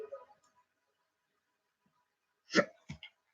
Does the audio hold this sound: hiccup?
yes